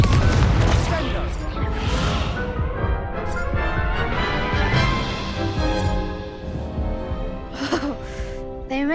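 Confringo blasting spell explosions boom repeatedly during a Hogwarts video game duel, loud bursts layered over music and voices calling out spells.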